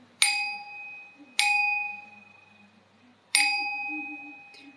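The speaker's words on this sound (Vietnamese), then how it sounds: "để lấy cái chuông ra tôi gõ cái chuông mới được" A struck bell rings three times, each clear metallic strike followed by a long, steady ringing decay, the second and third strikes spaced further apart, close and alone.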